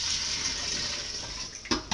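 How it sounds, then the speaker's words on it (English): Water pours steadily from a cup into a pot for Hungarian potato soup, a continuous close splashing rush that ends with a couple of clinks against the pot. "I'm going to add another 2 cups, making that 6 cups of water"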